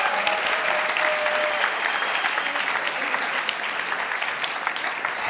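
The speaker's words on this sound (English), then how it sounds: "One more round of applause for our third place winners." Audience at the 2018 Imagine Cup World Championship finals applauding third place winners, a dense, loud, sustained clapping from a large crowd lasting throughout, with no talk over it.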